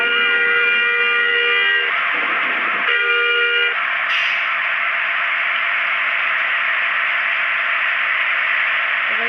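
Another video game vehicle horn: a harmonic tonal honk sounding in two bursts, then giving way to a loud, steady hiss of engine or static noise, with no talk.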